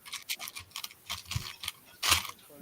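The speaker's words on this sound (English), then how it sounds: "Yeah, that's me. Rummaging through parts." Plastic LEGO bricks and parts clatter and click in quick irregular bursts as hands rummage through them close up, with no talking.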